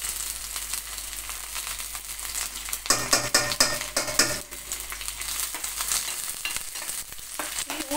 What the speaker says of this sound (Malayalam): കുറച്ച് കരിവേപ്പില ഇടാം.